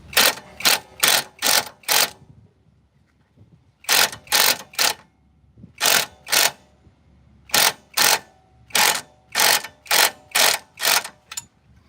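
A pneumatic impact wrench hammers on a vehicle bolt in repeated loud bursts of rapid rattling, short runs separated by brief pauses, close up in a mechanic's shop.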